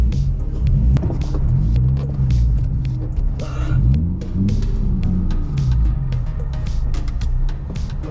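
A Nissan 350Z on a test drive with no power steering, its engine a steady low rumbling drone with occasional rising revs, heard from inside the car.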